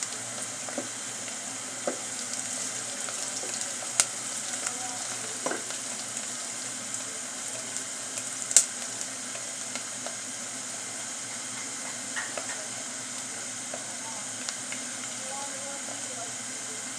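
White onions frying gently in a pan, a quiet steady sizzle with scattered small pops and clicks over a low background hum.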